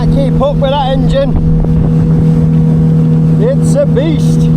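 Outboard engine of a small sea-fishing boat off Anglesey running at speed, a steady loud drone with wind and water noise throughout while a voice talks over it.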